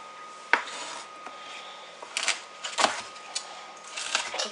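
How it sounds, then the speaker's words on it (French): Knife slicing a very large green bell pepper on a cutting board, faint close crunches and knife taps in irregular bursts, one sharper cut early and a cluster of quicker slices later. "maintenant, je découpe le poivron vert. Il est plutôt gigantesque."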